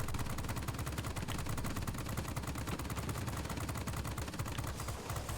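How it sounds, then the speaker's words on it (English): Rapid, continuous anti-aircraft flak fire in the World of Warplanes game, a dense unbroken stream of bursts at steady loudness throughout, heard alone with no talk. "Flak's gonna kill me if nothing else does."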